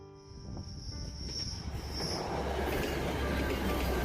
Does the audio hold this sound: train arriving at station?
yes